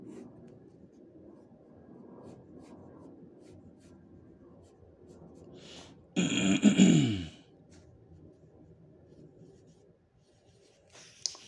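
Pencil drawing on paper during a comic-style figure drawing lesson, heard as a faint, steady scratching that runs throughout, with one louder, rougher burst of strokes partway through.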